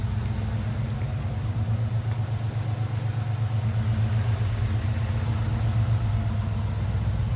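A frame-off restored 1977 Ford Bronco Ranger idles steadily through its dual exhaust, a low, even rumble that holds close and unbroken throughout with no voices over it.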